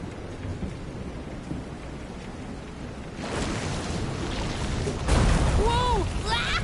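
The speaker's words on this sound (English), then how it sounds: "This is some storm." Stormy weather in the video game Visions of Mana, with steady rain hissing throughout and a louder surge of wind or thunder rolling in partway through, joined by brief tonal cries near the end.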